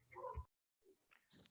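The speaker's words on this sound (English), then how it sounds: "That's my neighbor's dog" A neighbor's dog barks outside, faint and distant: one short bark, a pause, then a few softer yips and whimpers.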